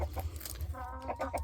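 A rooster and a flock of hens cluck in a poultry pen, with overlapping short clucks and calls against a steady low rumble.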